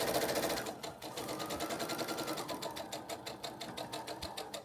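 A sewing machine stitches a quilt block, its needle hammering in a fast, steady rhythm close by with a brief slowdown before resuming.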